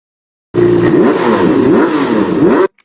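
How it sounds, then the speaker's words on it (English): A motorcycle sound effect from the CapCut library roars loud and close, with a revving engine rising and falling in pitch for about two seconds before cutting off abruptly. "let's just keep with the motorcycle"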